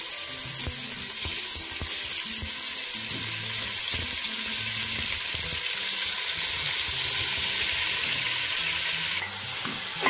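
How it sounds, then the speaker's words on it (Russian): Meat sizzling and frying in a couple of spoonfuls of vegetable oil in a pan for Polish bigos, a steady loud hiss with stirring clatter throughout and no talk. "Постараемся все, чтобы мясо хоть немножечко обжарилось."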